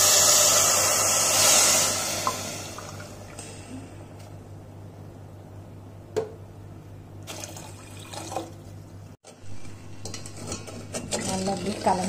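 Sugar being stirred into water in a pot for gulab jamun syrup, with a rushing pour or hiss at first, then scattered scrapes and metallic clinks of a spoon against the pot, close and fairly quiet.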